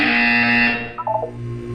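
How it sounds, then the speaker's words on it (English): A loud, harsh electronic buzzer sounds once, sustained for about a second and then cutting off, at the Aperture Science relaxation center in the video game Portal 2. "You will hear a buzzer."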